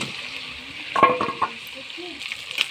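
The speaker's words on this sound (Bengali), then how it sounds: "আমার হাঁসের মাংসটা কষা হয়ে গেছে, ভাজি হয়ে গেছে। দেখুন কড়াইতে লেগে আসছে।" Duck meat fries in a wok with quick bursts of stirring and scraping over a steady background sizzle, the clatter clustered in the middle before settling back to low hiss.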